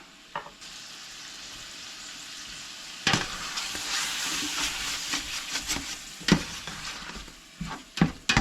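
Ground meat browning for homemade chili sizzles steadily in a pan, with a burst of louder crackle after the first few seconds and scattered scrapes and stirring clatters toward the end.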